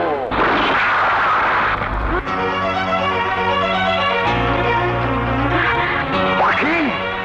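A gunshot rings out in a Bangla movie scene as a loud, sharp burst at the start, followed by sustained dramatic tonal sound carrying through the rest.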